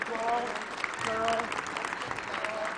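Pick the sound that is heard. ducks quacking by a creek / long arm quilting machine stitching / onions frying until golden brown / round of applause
round of applause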